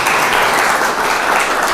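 Classroom applause for a student, a loud, dense burst of many hands clapping steadily and close throughout.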